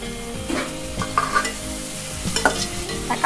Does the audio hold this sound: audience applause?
no